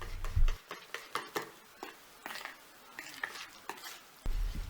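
A whisk stirs flour and salt in a bowl, giving soft, irregular scraping strokes and light taps against the bowl, close but fairly quiet, with no voices.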